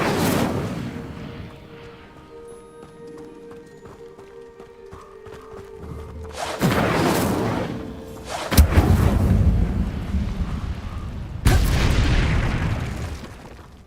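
An Incendio fire spell cast in Hogwarts Legacy, heard as three loud, rushing fiery bursts in the second half, each a dense whoosh with a rumbling boom, after a quieter stretch of game ambience.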